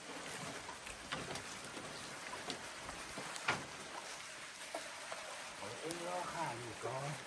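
Steady rain falling outdoors, a continuous close hiss with scattered patters throughout, while faint voices are heard in the background.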